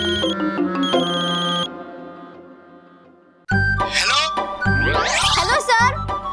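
A phone ringtone plays as a bright, jingly melody, fading partway through before the ringing resumes loud and close in fuller bursts.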